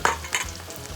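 Food deep-frying in a large amount of sunflower oil, a close, crackling sizzle with brief stirring bursts, no voices.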